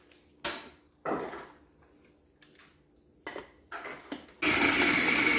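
Several sharp plastic knocks and clatters come from a food processor being closed up, then its motor kicks on with a loud, steady whirr, blending butter for a cheesecake up close in the final second.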